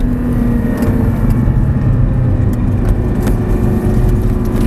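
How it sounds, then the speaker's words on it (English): Audi R8 sports car coasting off the throttle, a steady close engine hum and road roar rolling on without revving, no voices over it. "Alright, off the gas, let it roll."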